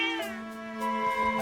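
A cat meows in the video game The Legend of Zelda: Echoes of Wisdom, a single drawn-out, tonal mew that rises and holds for over a second, fairly close and clear with no talk.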